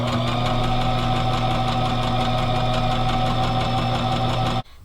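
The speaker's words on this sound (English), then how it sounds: "So I sewed along this edge." Sewing machine stitching fabric for a scrappy bag, a close, steady mechanical hum with fast rhythmic vibration that runs evenly and then stops abruptly just before the end.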